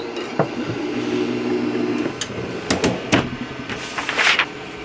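An HTVRont Autopress heat press carries out a press cycle with a low steady mechanical hum, then several sharp clicks and clunks and a brief hiss near the end, heard close up with no speech.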